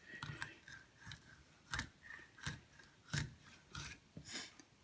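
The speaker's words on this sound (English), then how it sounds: "You got to cut through ribs, so up here you'll hear the crunching of the ribs." A knife crunching through fish ribs while filleting, a series of short crisp scraping crunches about every half second, close and fairly quiet.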